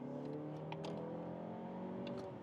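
A Mazda 3 with an updated engine pulls from 50 to 80 on the German Autobahn, heard from the cabin as a steady, smooth engine hum with rising tonal whine under road rumble.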